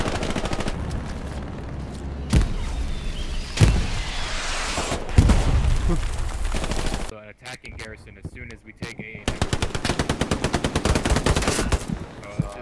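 Machine gun fire in the WW2 shooter Hell Let Loose comes as heavy bursts and rapid, evenly spaced rattling shots, close and loud, mixed with other battlefield gunfire.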